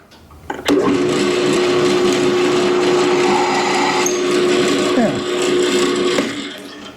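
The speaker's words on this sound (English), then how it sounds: "So I was able to drill both my holes exactly where I wanted them." A magnetic drill press bores into metal with a steady, loud mechanical whine for several seconds, starting abruptly and stopping near the end, with a brief pitch shift midway.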